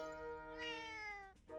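A cat in the video game Zelda: Echoes of Wisdom gives a single clear, drawn-out meow that rises and then trails off, heard alone and close.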